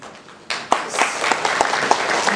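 Audience at a San Jose mayoral candidates forum bursts into scattered hand clapping that quickly builds to steady applause in a hall, several sharp claps standing out.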